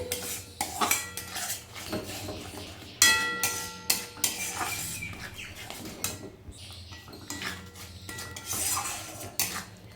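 Yogurt being stirred into fried spice paste for a fish curry, with close, irregular clinks and scrapes of a utensil against a metal pan over a soft low sizzle, no talk.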